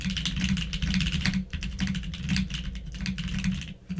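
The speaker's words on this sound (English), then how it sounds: "I typed on my friend's custom keyboard and experienced that thocky typing" Steady, fast typing on a custom-built mechanical keyboard with a deep, thocky keystroke sound, dense and close, continuous with no voices.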